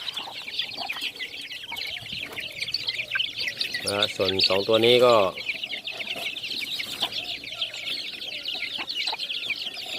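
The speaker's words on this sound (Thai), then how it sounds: "ลูกไก่ป่าทั้งหมดเลยนะครับ" A brood of red junglefowl chicks raised in a cage without a heat lamp peep continuously in thin, high chirps, close and busy throughout, while someone speaks briefly in the middle.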